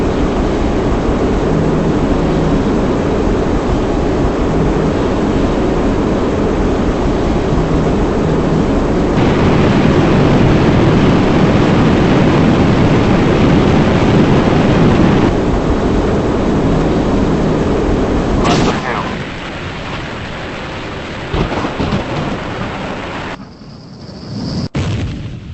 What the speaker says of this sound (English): There goes the tanker in flames.